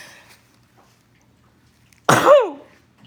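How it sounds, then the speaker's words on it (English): After a quiet stretch, one sudden, loud sneeze bursts out close to the microphone, with a sharp attack and a short trailing vocal tail. "I'm going to sneeze."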